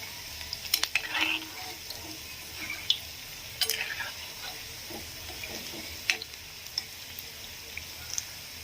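Black-eyed pea fritters fry in a pan of hot oil, with a steady close sizzle broken by scattered crackles and small pops, and no voices.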